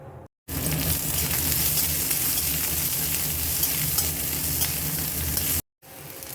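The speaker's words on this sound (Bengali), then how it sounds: "কড়াইতে দিয়েছি সামান্য একটু তেল এবারে পেঁয়াজ আর রসুনটা ভাজবো" Onion and garlic frying in a little oil in a wok, a steady dense sizzle that runs loud and close for about five seconds, with brief quiet gaps at the start and end.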